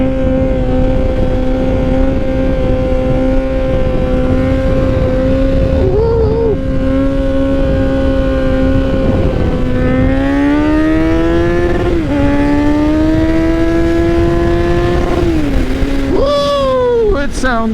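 A Kawasaki Z900 motorcycle with its muffler removed idles with a loud, rumbling exhaust, then revs repeatedly with the pitch rising and falling. The bike is close, and the engine runs without a break.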